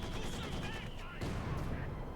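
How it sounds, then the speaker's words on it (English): Bursts of DShK heavy machine gun fire in a Company of Heroes 2 battle, a dense, continuous rattle of gunfire lasting the whole moment, with a brief dip in the middle before the shooting resumes. "Dishka firing away there"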